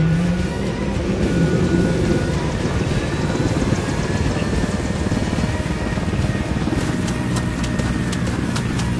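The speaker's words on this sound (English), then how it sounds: "Let's take your helicopter." A military helicopter in the video game Ghost Recon drones steadily with a dense rotor and engine roar, continuous and loud throughout, with faint rhythmic blade chopping.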